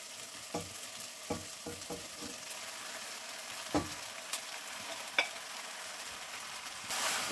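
Beef and onions frying together in a pan, a steady sizzle broken by a handful of sharp scrapes and clacks of stirring, heard close with no one speaking.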